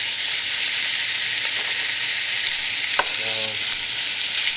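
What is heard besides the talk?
lamb meat browning, frying in a pan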